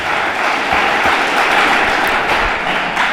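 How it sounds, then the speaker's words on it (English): Audience applause at a school's official launch ceremony in Machakos, Kenya, a dense, steady round of clapping filling the room throughout with a few louder individual claps standing out. "I need a better round of applause, kindly."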